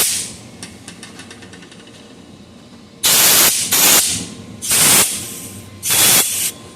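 Compressed air blown into a 1957 Ford-O-Matic transmission for an air check, four loud, close hissing bursts of about a second each, after a quieter stretch of low background noise.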